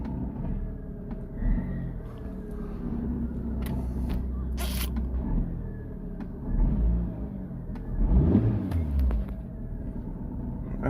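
A 2010 Ford Ka Titanium engine idles with a steady low rumble and a leaking exhaust, swelling into a louder rev or two near the end.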